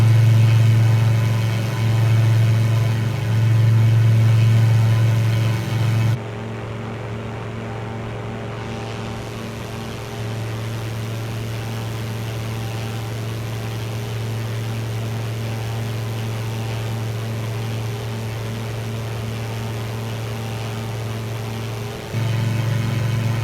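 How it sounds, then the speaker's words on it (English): A loud, steady propeller engine of a Kitfox STI aircraft in Microsoft Flight Simulator drones throughout, with a low throbbing hum that dips briefly in pitch and intensity before rising again near the end. "First thing that stood out to me when I first started this aircraft up was the noise of the engine"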